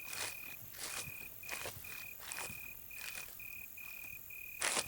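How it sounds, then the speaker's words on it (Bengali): Crickets chirp in a night jungle with a steady, evenly pulsed trill, joined by soft rustling footsteps at moderate distance, no voices. "জঙ্গলে প্রবেশ করার পর ঝিঝি পোকার ডাকটা আরো তীব্র হয়ে উঠল।"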